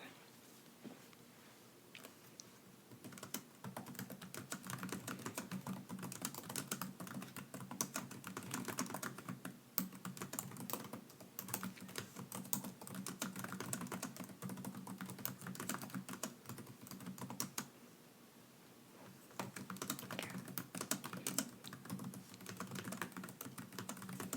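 Close, steady typing on a computer keyboard during a soft-spoken ASMR survey roleplay: a continuous run of quick, light keystrokes with short pauses, heard alone with no voice.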